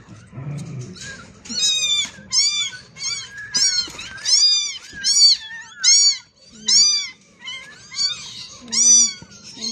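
Many small kittens mew rapidly and repeatedly, high-pitched cries overlapping in a busy, insistent chorus close by.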